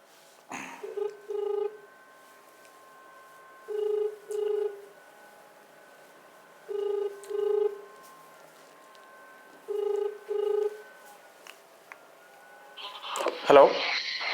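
Phone ringback tone during a call, four evenly spaced double rings with silent gaps, ending in a burst of handling noise as the line connects.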